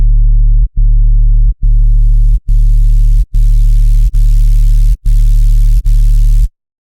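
Sub bass synth tone with added gritty noise in Ableton Live, played as eight even, loud sustained notes in a steady rhythm, with the hissing noise layer growing brighter over the first few notes before the sound cuts to silence.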